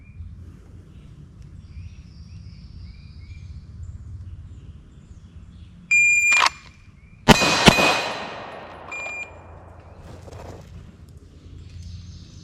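Two sharp pistol shots, about a second apart, crack out during a timed handgun shooting drill, with a metallic clang like steel targets ringing, against a quiet background.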